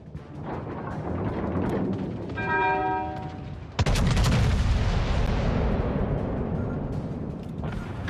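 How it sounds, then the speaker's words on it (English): Battleship Nagato, Tier VI, firing its main guns in the mobile game World of Warships Legends: one heavy boom midway with a long rumbling decay, over steady engine and sea ambience and a brief tonal game cue. "Concentrate fire on the enemy warship."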